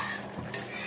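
Spice paste with tomato stirred and frying in a single kadai over low heat, a brief close scrape of the utensil over a steady soft sizzling hiss.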